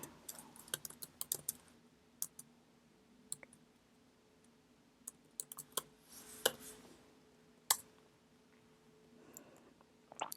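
Light typing on a computer keyboard, sparse irregular key clicks in short clusters with long gaps between them, quiet and close against a faint background hum, no talking.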